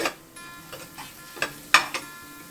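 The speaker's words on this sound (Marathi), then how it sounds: "आता आपण जरा झाकण घालून कांदा ब्राउनिश होईपर्यंत वाट पाहूया" Onions frying in a covered pan on the stove, a faint sizzle broken by a few soft clinks and scrapes of a lid or spoon.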